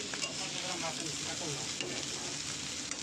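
Garlic frying in foaming mustard oil for a leafy gourd-greens dish, a steady close sizzle with faint stirring scrapes running throughout, no talking.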